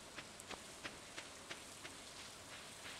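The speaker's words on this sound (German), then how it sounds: "Meinst du, weil das regnet?" Steady rainfall in the Stardew Valley video game, a soft even hiss with faint scattered drop ticks, quiet and without voices.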